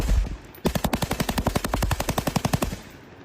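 A toy AK-47 gun fires a rapid electronic burst of machine-gun shots, about two seconds of evenly spaced loud pops close by before stopping.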